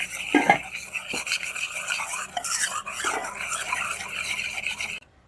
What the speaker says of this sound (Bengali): এই এক কাপ চিনি গুঁড়ো দিয়ে দেব ভালো করে এবার ফেটে নেব